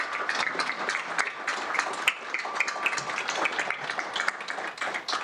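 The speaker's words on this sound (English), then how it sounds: "Let's give another round of applause for our leaders" An audience at a Laborfest Hawaii evening event applauds its leaders, with close, crisp claps over a steady, dense wash of clapping.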